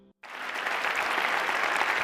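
After a brief hush, an audience at a spiritual lecture session bursts into sustained applause, thick even clapping that fills the room and stays loud to the end.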